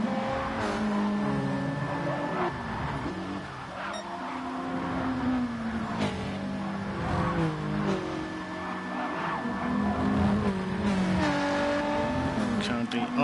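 Race cars in a touring-car racing video game at Interlagos roar and jostle through an overtake, engines revving and shifting continuously with brief tire noise, under steady commentary.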